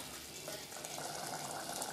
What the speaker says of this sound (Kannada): ಖಾರ ಕುದೀತಾ ಇದೆ ಚೆನ್ನಾಗಿ.